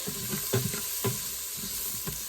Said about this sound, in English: Until the peppers are just slightly browned